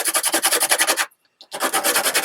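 A pencil rubbed back and forth on sandpaper in quick, steady rasping strokes, close and loud, with a short pause partway before the scraping resumes.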